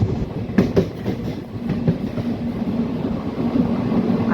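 An ICF-coach special train, number 07032 from Pandharpur to Tirupati, rumbles along steadily, heard from inside the carriage, with a few sharp rail-joint clacks early on over a continuous loud roar.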